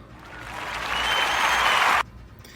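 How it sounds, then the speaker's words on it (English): Applause from a small audience for a livestreamed stock-trading show, a steady wash of clapping that swells over two seconds and then stops abruptly. "Let's get a little clap for that."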